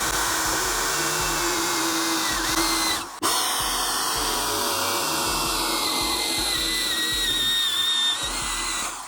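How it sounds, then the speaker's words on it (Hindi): An electric drill bores holes into the side of a box for a homemade hot air soldering gun; the motor whines steadily and loudly, stops briefly, then starts again and keeps running. "तो चलिए हम इसमें ड्रिल मशीन की मदद से होल कर लेते हैं।"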